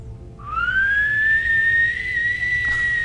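A single sustained whistle from a person in Skyrim, rising quickly to a steady clear tone and held for about two seconds before cutting off, loud and close with no talk.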